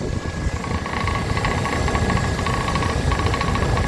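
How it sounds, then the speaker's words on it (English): A Rheem air conditioner's outdoor compressor running steadily, a close, continuous mechanical hum with a rattling, knocking vibration and a hiss over it, holding level throughout with no talking. "I do hear my compressor run"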